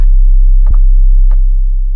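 An 808 bass sample without the sine fold effect in Reason Mimic gives a loud, deep, sustained low boom. A few faint clicky hits sit above it, and no one talks.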